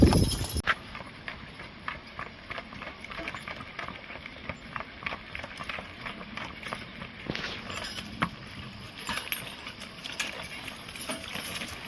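Hooves of a young team of Belgian horses clip-clop in a steady walking rhythm while pulling a wagon on a Sunday drive, moderately close with faint rattles, no voices.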